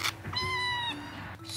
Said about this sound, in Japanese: ああ子猫たち来ちゃった。